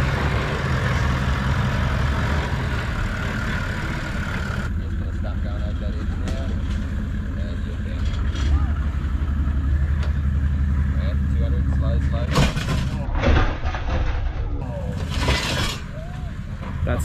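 An off-road vehicle towing a caravan on a Cape York track runs with a broken exhaust pipe, giving a continuous low, rough engine rumble with a few louder bursts. People talk over it.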